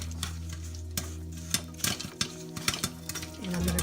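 Brown sugar being stirred in a pot for caramel gives a few scraping, clinking strokes against the pot over a steady low hum, with a faint bubbling rise near the end.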